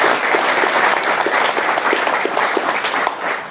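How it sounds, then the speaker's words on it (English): Loud, sustained applause from an audience at a Guide Dogs for the Blind class graduation ceremony, a dense wash of many hands clapping throughout. "another round of applause for those two"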